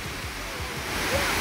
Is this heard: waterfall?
yes